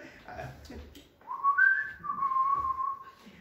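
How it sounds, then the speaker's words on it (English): Someone whistles a short tune, a clear, fairly close melodic line of sustained notes that follows a moment of low murmuring. "Can you whistle the tune?"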